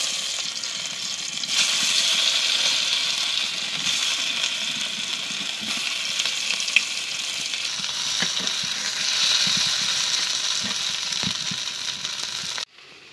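Masala-stuffed pointed gourds fry in hot oil with a constant, close sizzle and faint occasional clinks of a utensil, cutting off abruptly at the end; no one speaks.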